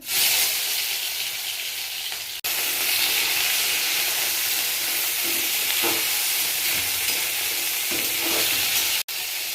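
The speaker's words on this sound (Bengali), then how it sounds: "তেল দিয়ে দেবো, পাঁচফোড়ন, শুকনো লঙ্কা দিয়ে দেবো, একটু ভেজে নেবো।" Panch phoron and dried red chillies fry in hot oil, a loud, dense hiss and sizzle right up close, with a few soft utensil knocks partway through and two abrupt cuts in the sound.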